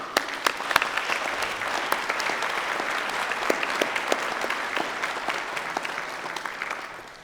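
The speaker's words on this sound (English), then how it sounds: "Let's give them all a thundering round of applause" At a University of Northampton graduation ceremony, an audience gives a sustained round of applause: a broad, dense roar of clapping with individual sharp claps popping out, holding strong for several seconds before tapering at the end.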